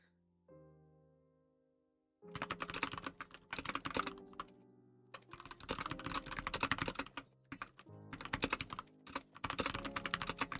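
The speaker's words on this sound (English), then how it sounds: "We hear the typing." Quiet typing on a computer keyboard: after a brief pause, rapid bursts of crisp key clicks come in irregular runs, close and alone, with short gaps between flurries.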